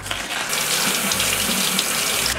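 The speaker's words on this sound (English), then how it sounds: "rinse off this cabbage." Tap water runs steadily into a kitchen sink while cabbage is rinsed, a continuous close hiss and splash that starts abruptly and holds at even loudness throughout.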